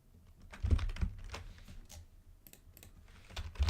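Rapid clattering of keystrokes on a computer keyboard, close and moderately loud, in irregular bursts with brief pauses, no voices.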